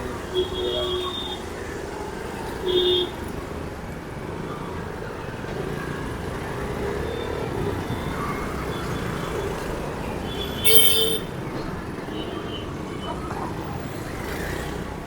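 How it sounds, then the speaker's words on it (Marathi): Steady roadside traffic rumble in Bhiwandi with passing vehicles and a couple of short horn honks, a continuous busy street wash. "ट्रॅफिक तर भरपूर आहे ट्रॅफिक वगैरे बघू शकता"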